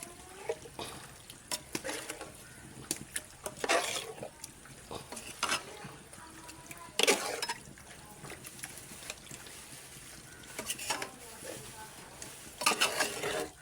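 Chicken being stirred through masala in a pot for a curry, with repeated scraping and wet clattering strokes at an uneven rhythm, close and moderately loud, accompanied by a low sizzle throughout and no talk.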